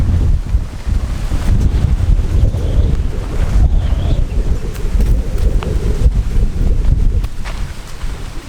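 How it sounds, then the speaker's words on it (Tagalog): Strong southwest monsoon wind roars and buffets the microphone in a continuous low rumble at Pungkay Mountain Park, Hinunangan, Southern Leyte, with gusts rising and falling throughout and no voices. "Yung hangin bumubugso ngayon dito ay yung habagat."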